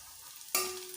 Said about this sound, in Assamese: আদা নহৰুখিনি দিয়াৰ পিছত ইয়াত 1 মিনিটমান সময় ফ্ৰাই কৰিম